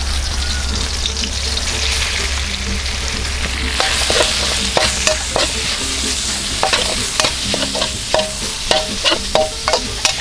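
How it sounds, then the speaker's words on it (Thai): Minced pork with garlic and chili is stir-fried in a pan: a steady sizzle under repeated scraping and stirring strokes that grow sharper and more rhythmic in the second half, close up with no talk. "เราก็จะผัดให้หมู สุกก่อนนะครับ"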